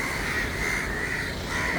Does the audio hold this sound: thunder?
no